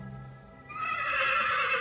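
A horse lets out a loud, drawn-out whinny close by in a cartoon scene, rising suddenly after a brief quieter lead-in and holding strong to the end.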